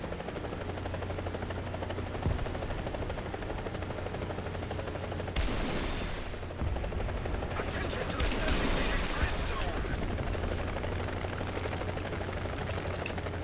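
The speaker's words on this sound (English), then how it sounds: "He's shooting at me." Bursts of machine-gun fire in War Thunder cut through the steady drone of a Huey helicopter, loud and close, with two main volleys partway through and a voice talking over the engine.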